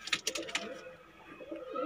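A captured high-flyer pigeon gives short coos and wing-flutter bursts close by, with a quieter lull midway before soft cooing resumes.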